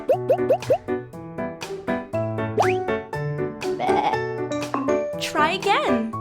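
A cartoon sheep bleats in a children's animal cartoon, with wobbly, pitch-bending cries mixed with bouncy boing and plop effects and tinkling sounds in a busy, playful sequence.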